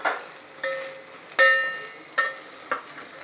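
A spoon scrapes and clinks through chopped bottle gourd with onion, ginger and garlic in a pan, five separate sharp strokes over a soft sizzle, close and fairly quiet.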